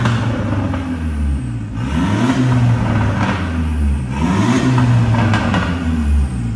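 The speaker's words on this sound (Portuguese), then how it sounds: "agora olha o difusor aberto com os pipoquinhos" Remapped Audi Q3 with a 1.4 TSI engine and open exhaust diffuser, revving hard in repeated rising bursts, with crackling pops and bangs on each lift-off, loud and close.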